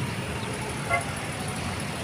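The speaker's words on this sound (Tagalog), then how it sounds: "Sa kabila, super traffic." Dense road traffic in Binangonan, Rizal, Philippines, heard as a steady roar of engines and tires, with a brief car horn toot partway through while someone walks nearby.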